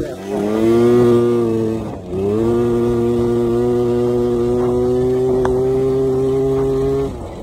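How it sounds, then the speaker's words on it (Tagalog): A newly built Honda Dio 125cc two-stroke, air-cooled scooter engine drones steadily while riding, with a strong harmonic buzz and one short dip in revs before holding a constant pitch, heard close up. "So chill ride lang po tayo kasi nga bagong build yung makina 125."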